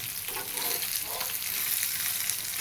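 Fish fillets frying in hot oil, a loud, dense crackling sizzle held close throughout, with faint handling sounds as the pieces are turned over.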